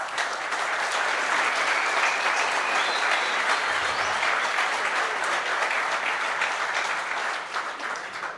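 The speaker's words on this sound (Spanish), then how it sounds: "Yo quisiera que por favor me ayudaran con un aplauso para el joven" Conference audience gives a round of applause for a young hacker presenter at a talk on ransomware and machine learning, loud, continuous clapping from a full room that holds steady and tapers slightly at the end.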